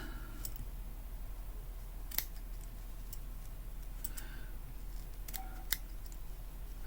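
Scissors snip through a knitted steek in a few sharp, isolated clicks spread across a quiet, hum-filled room, with no talking.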